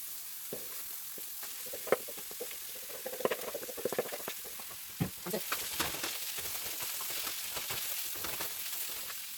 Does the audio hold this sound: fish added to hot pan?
yes